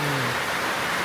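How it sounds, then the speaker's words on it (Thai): Heavy rainy-season downpour falling steadily, a dense, even hiss of rain that fills the whole moment with no pauses, with a brief low tone near the start. "บรรยากาศฝนตกนี่พอดีเลยแหละเนาะ"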